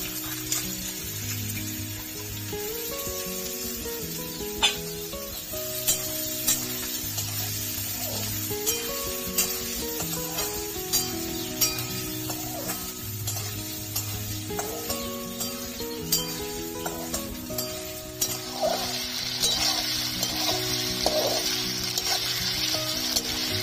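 Thin-cut potato sticks fry in oil in a pan, giving a steady, close sizzle with bursts of crackle and occasional stirring clatter throughout, no talking.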